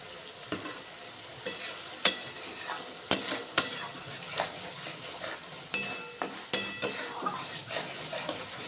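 Spice masala fries with lentils in a pan for a vegetarian potol dish, a low sizzle under repeated sharp scrapes and clinks of a metal spoon stirring, close by, in irregular bursts.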